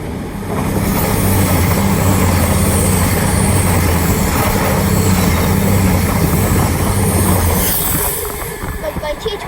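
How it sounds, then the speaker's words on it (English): An East Midlands Railway train from Nottingham to London St Pancras, worked by Class 222 units, rushes through West Hampstead Thameslink station with a loud, steady roar of wheels and engines that fades near the end. "Coming through now is a East Midlands Railway service from Nottingham to London St"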